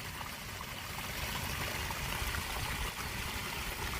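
Rainwater trickles steadily through a French drain in a Royal Oak, Michigan yard after four inches of rain, a constant close, soft gurgling stream with no voices.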